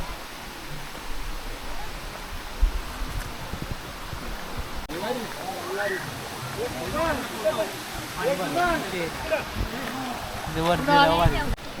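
Water flows and rushes steadily near a waterfall at Kasmal, a broad continuous wash heard up close, with people talking over it through most of the stretch.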